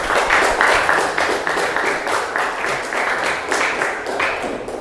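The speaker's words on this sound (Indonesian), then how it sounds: "Tepuk tangan." A classroom group claps together after a student presentation, a dense, steady patter of many hands that carries on for several seconds, close and fairly loud.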